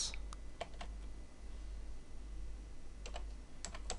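Quick bursts of keystrokes on a computer keyboard, a cluster of clicks at the start and another near the end with a pause between, close and clear over a low steady hum.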